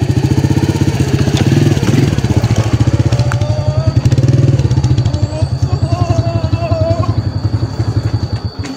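A motorcycle engine putters steadily close by in a rapid, throbbing rhythm, loud and continuous throughout.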